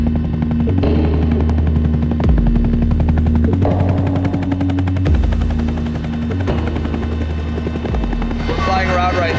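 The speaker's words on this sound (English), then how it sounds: "flying around right now in the Pemex helicopter" A Pemex helicopter flies overhead, its rotor chopping in a loud, steady rhythmic thud with a droning engine whine throughout the whole stretch, close and dominant.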